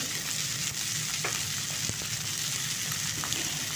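Drumstick stalks and ginger garlic paste fry in a pan with a dense, steady sizzle, loud and close, broken by a few faint stirring clicks, with no voices.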